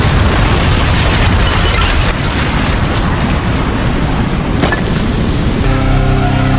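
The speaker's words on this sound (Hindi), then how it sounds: "धमाके से उड़ जाओ।" A loud, sustained anime explosion, a roaring blast with crackling noise, fills the whole span, rumbling and dense, before a tonal hum emerges near the end.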